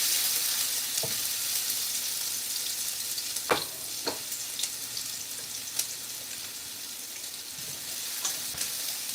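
Garlic sizzles steadily in a pan, a close, continuous hiss with a few sharp clicks and taps of utensils scattered through it.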